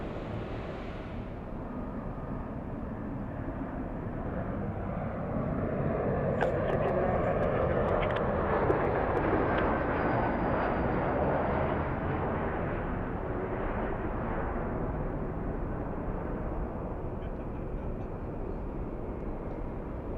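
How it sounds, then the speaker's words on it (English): An Embraer E175 jet on its takeoff roll down runway 24 left at Los Angeles: a distant engine roar that swells and holds steady for a long stretch, with faint radio chatter underneath. "Let's go for that little E175 on the roll."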